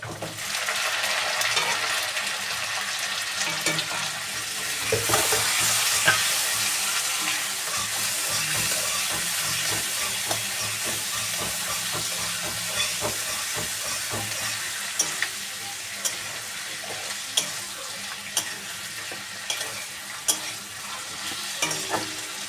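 Onion fries in a pan with a steady, loud hiss of hot oil, broken by occasional sharp taps and scrapes of a spoon stirring.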